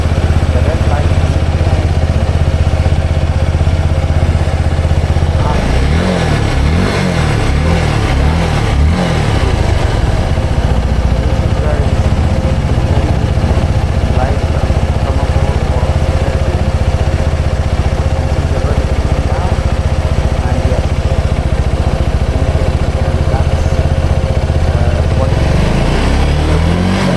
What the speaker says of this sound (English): So now the vehicle is revved and checking how the Fuel Xlite is working.